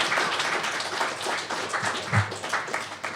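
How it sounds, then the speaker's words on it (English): Audience applause for a speaker at the BSides LV 2023 security conference, a steady, fairly near wash of clapping across the whole moment with no break. "One more round of applause, please, because that was awesome."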